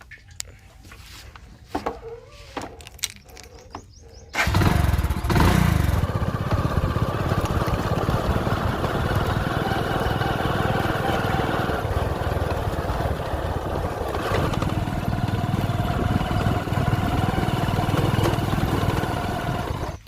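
A motorcycle rides along toward a farm, its engine droning steadily with wind rumble after a few seconds of scattered knocks and handling noises.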